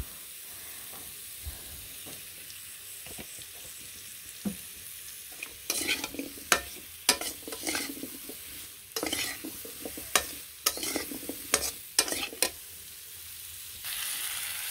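Vegetable stems stir-fried in oil in a pan, with quiet sizzling under a series of clattering stirring scrapes that come in uneven bursts, close and fairly loud.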